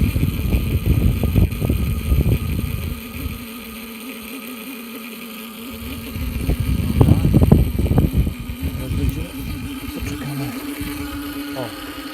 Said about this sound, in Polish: coś tutaj nam ta pompa chodzi dosyć głośno